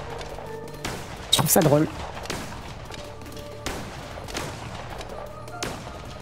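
Gunfire in the video game Cult of the Lamb: a short burst of rapid shots near the middle, with a few lighter impacts afterward, under a voice speaking French.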